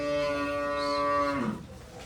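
A single cow moos nearby at a cattle market in Sirajganj, one long loud low call lasting over a second that falls away at the end, with faint market noise behind.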